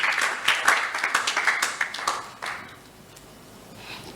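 A church congregation at a French-speaking seminar claps in a quick run of sharp, rhythmic bursts, then the applause thins and fades into quiet room tone.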